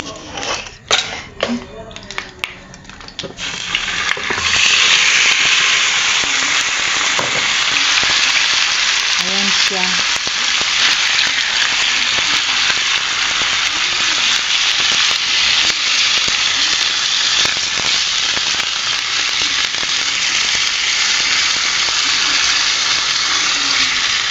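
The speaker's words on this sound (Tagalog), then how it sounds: "gisa-gisahin ko lang yan sa ano sa kunting butter" Marinated chicken sautéing in a little butter in a pan: after a few clattering handling noises, a loud, steady sizzle and crackle takes over and runs on without a break, with a person talking over it at times.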